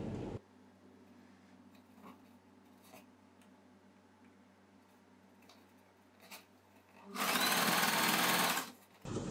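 A sewing machine stitches the side slit of a churidar, a steady close, loud whir running for about two seconds near the end after a quieter stretch of faint mechanical ticking.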